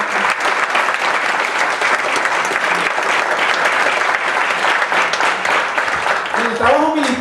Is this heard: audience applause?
yes